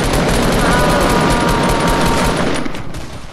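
Sustained rapid gunfire from submachine guns in a first-person shooter video game, loud and continuous for several seconds before easing slightly at the end, with no talk over it.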